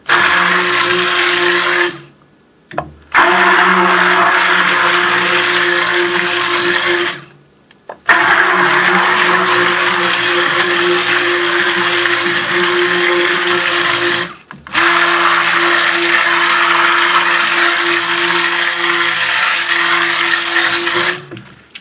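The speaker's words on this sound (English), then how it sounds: "I've been using the same stick blender since I first started soaping" A loud electric stick blender mixing soap whirs in four long bursts separated by short pauses, its motor pitch steady and droning with a faint rattle.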